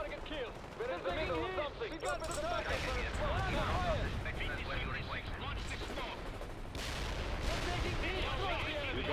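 Heavy artillery and gunfire thunder across a battlefield in the war game Bannon in Conflict, a loud, dense barrage filling the whole stretch while shouting voices carry over the top.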